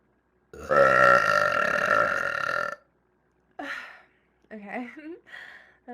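A woman gives a long, loud burp of about two seconds close to the microphone, then after a pause makes a few shorter breathy vocal sounds, gasps and sighs.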